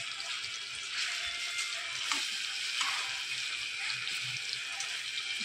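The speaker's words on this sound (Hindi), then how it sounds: "लौकी हमारी फ्राई हो चुकी है" Bottle gourd (lauki) fries in a kadhai with a steady, dense sizzle that runs unbroken throughout, close and fairly loud with no one talking.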